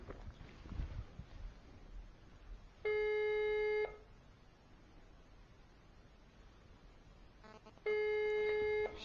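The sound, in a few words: telephone dialing tones from GSM smart home fire alarm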